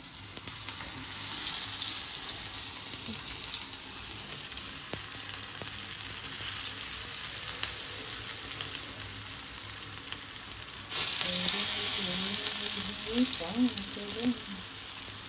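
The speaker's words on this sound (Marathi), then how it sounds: "आता हे तेल आपलं गरम झालंय आणि हा रवा आणि हे कापे आपले तेला असे फ्राय करायचे" Semolina-coated potato slices fry in hot oil with a steady, loud sizzle throughout, growing a little louder near the end as fresh pieces go in, with faint kitchen clatter and water-like hiss beneath.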